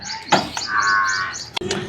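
A young calf lets out a single short, nasal moo close by at a buffalo market, surrounded by a few soft thumps.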